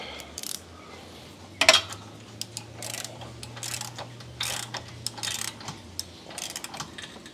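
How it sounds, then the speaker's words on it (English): A wrench ratchets while snugging fasteners during a spark plug install, heard as a run of quick, close, light clicks in uneven bursts, with one sharper metallic clink near the start and a low steady hum underneath. "Take our wrench, we'll snug them up."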